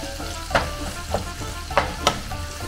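Ground meat fries in a pan for Monterrey-style picadillo, a loud steady sizzle broken by four spoon-stirring scrapes at irregular intervals, close up with no talking.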